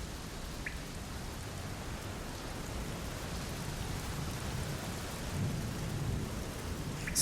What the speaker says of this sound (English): Still hear the rain outside, though.